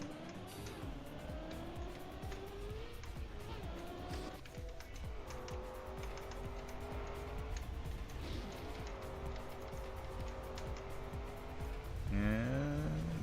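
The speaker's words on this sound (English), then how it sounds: "The beloved desert car." Desert car racing in a driving game, its engine droning steadily with pitch rising and falling through gear changes, tire squeals and a skid near the end, with no talk.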